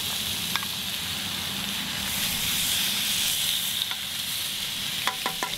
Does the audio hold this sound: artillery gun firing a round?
no